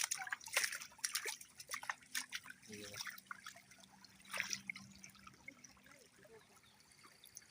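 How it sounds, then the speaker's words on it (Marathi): Water trickles and gurgles along a small irrigation channel in a paddy field shortly after rain, a faint, uneven stream of drips and splashes heard close up, with quiet talk nearby. "पाणी सुद्धा आलंय पाटाला बघा इकडून जात आहे"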